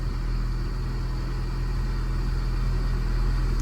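A Renault Megane 2 with a 2-litre engine idles steadily after starting, a close, continuous low rumble with even hum and no talking over it.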